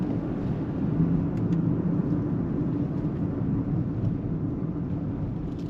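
A BMW X4 30i with 252 horsepower on the move, giving a continuous deep rumble of engine and tyre noise heard from inside, steady and unbroken throughout.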